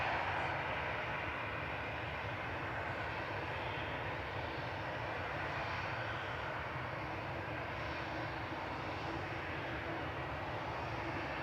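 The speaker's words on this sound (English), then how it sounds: "Lufthansa's just arrived from Frankfurt. That's an A321 Classic, a 13-year-old aircraft" A Lufthansa Airbus A321 Classic, a 13-year-old jet just arrived from Frankfurt at Manchester Airport, gives off a steady, distant engine roar, faint and continuous throughout with no voices over it.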